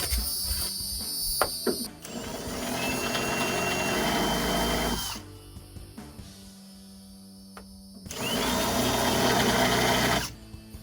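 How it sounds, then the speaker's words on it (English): A power drill bores into a 2015-2023 Ford Mustang trunk lid while a rear spoiler is being installed, whining loudly in two sustained bursts with a quieter gap of handling noise between them, close up. "we're going to have to drill this one a little bit more to the side"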